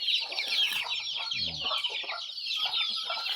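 Chicks and hens on a farm cluck and cheep continuously at close range, high peeping chirps overlapping with lower clucks.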